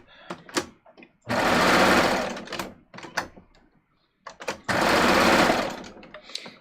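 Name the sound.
sewing machine stitching a pleat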